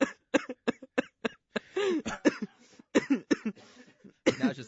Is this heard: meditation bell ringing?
no